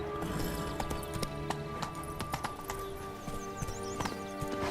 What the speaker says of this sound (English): Run, Roach. Faster.